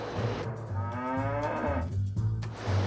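Cattle in a rotary milking parlour moo in a long, drawn-out low call against constant mechanical rumble and hiss, with the machinery noise running throughout.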